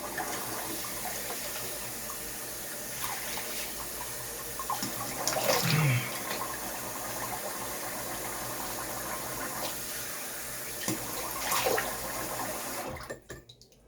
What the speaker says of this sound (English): let me rinse off with some cold water real quick.